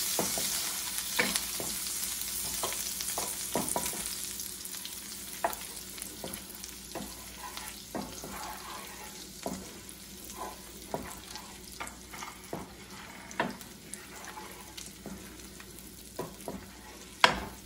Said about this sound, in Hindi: मैंने लकड़ी का चमचा लिया है, नॉन स्टिक पैन है।